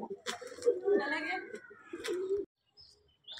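Pet pigeons coo at home in soft, low repeated phrases with a few chirps, fairly close and quiet, with a brief pause near the end.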